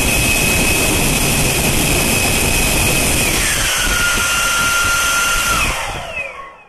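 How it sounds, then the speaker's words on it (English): Electric ducted fan with an afterburner burning propellant, a loud continuous jet-like roar with a high whine that drops in pitch, then fades out at the end. "not only does it produce an awesome flame, it's also an incredible noise once this propellant is burning"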